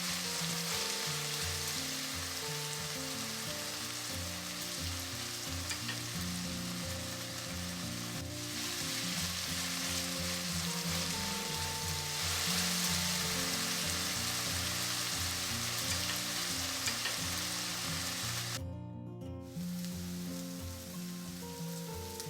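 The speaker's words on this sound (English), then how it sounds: "I'm going to use a little bit of butter to fry one medium-sized onion" One medium onion cut into long slices fries in butter with a loud, continuous crackling sizzle, close and unbroken, while music plays underneath.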